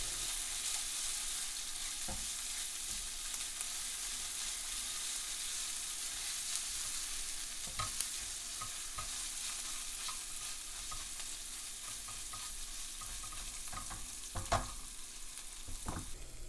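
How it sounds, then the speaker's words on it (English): Garlic fries in a pan with a quiet, continuous sizzle, while occasional stirring clinks and scrapes of a utensil against the pan stand out at irregular intervals. "Add in the garlic and fry for a further 30 to 60 seconds until the bitter smell disappears"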